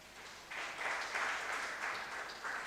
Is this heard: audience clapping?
yes